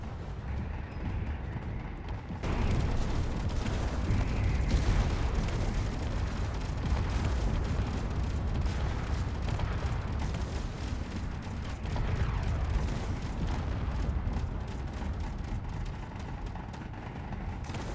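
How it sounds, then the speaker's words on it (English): A bomb rover's explosive device lodged in a wheel blows it apart in the game Space Engineers. A dense, rumbling blast roar starts abruptly and stays loud and sustained. "you can actually see the wheel exploded from inside out with that explosive device lodged in there"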